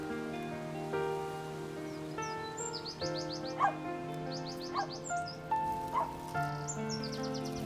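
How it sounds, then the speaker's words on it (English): Outdoors, a dog gives several barks against a steady, repeated twittering of bird calls, the barks standing out at intervals over a continuous bed of tonal chirps and a soft ambient hiss. "Oh, and a dog is arguing with a bird over there."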